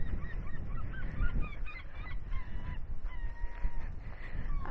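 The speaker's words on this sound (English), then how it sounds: "I am hearing some seagulls." Seabirds call repeatedly in short, high honking cries along a harbour waterfront walk, with steady wind rumble underneath and no talking.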